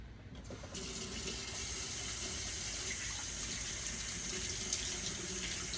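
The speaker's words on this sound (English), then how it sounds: "So I'm gonna rinse my hands." Tap water runs steadily into a sink while hands are rinsed after mixing Ghanaian fufu, a continuous close splashing gush that starts softly and fills out within the first second, with no talking.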